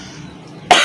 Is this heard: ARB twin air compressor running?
no